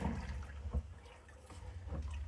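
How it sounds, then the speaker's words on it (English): Sour mash for moonshine being stirred in spring water, a steady low sloshing and swirling of liquid with a few louder splashes, close by and without voices. "we're going to give it a good mixing. We got all of our spring water in there."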